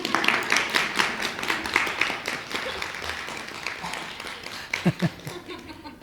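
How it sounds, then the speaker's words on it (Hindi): An audience at a talk on dealing with people claps at moderate volume, with light chuckles mixed in. The applause tapers off, and a few isolated sounds follow near the end. "आप लोग चाहे तो ताली बजा सकते हैं।"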